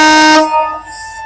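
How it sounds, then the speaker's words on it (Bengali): A train at Benapole railway station sounds one loud, close whistle-like horn blast that cuts off after about half a second and fades into a brief echo. "ট্রেনের হুইসেল আপনারা কিছুক্ষণ আগে শুনতে পেলেন।"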